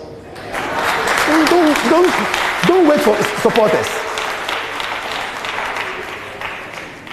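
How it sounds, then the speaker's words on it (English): A congregation at a sermon applauds beneath a voice as he speaks; the clapping is a broad, steady wash, loudest early on and thinning toward the end. "If you want to clap and you are alone,"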